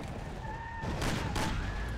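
Gunfire during a car shootout in the game Mafia: a couple of broad blasts over constant loud engine and road noise, with a faint tonal whine running through.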